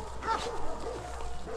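A livestock guardian dog barks and yips in short, scattered bursts, fairly faint and distant against a constant outdoor background hum.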